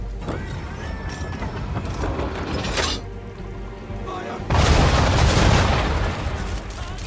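Ship cannons on a naval vessel firing in Assassin's Creed 3, with a booming shot followed a moment later by a louder, longer blast that roars and rumbles away, set over steady sea and battle ambience.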